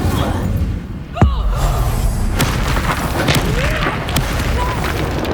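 An Incendio fire spell blasts in a Hogwarts Legacy duel, a sharp whooshing burst that hits early and then trails into crackling flames, layered over continuous combat noise and other spell sounds.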